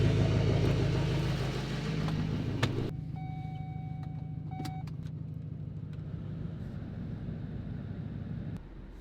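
A Chevrolet Silverado pickup truck rolls up and slows to a stop, its steady low engine rumble and road noise easing off and then idling quietly, with a faint electronic chime partway through.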